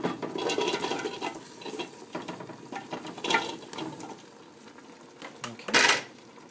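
Carrots and potatoes tumble into a pan of coconut chicken curry and are stirred with a spatula, giving close scraping and clattering with a sharp louder clatter near the end and no talk.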